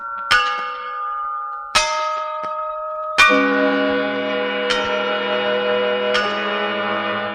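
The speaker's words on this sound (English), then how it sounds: "Dingle rang the bells, morning, noon, and night." Large church bells in a steeple ring out one after another, each strike clanging loudly and leaving a long, shimmering hum that builds as the tolls overlap.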